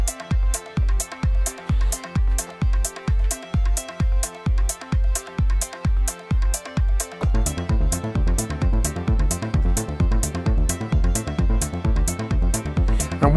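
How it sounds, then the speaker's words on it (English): A melodic house arpeggio plays from a black hardware synth box, with fast, evenly repeating notes over a steady pulsing beat; the pattern turns denser and busier about halfway through and keeps going loud to the end. "So you'll hear my arp playing here, coming from the black box."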